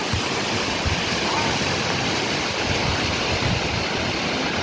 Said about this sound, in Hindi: सहस्त्रधारा का पानी।